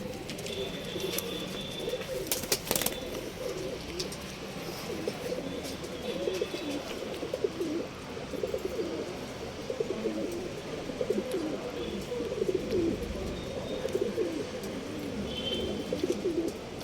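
Pigeons kept for sale coo in soft, repeated low rolling calls, several birds overlapping steadily and fairly close, with occasional faint chirps and small clatters around them.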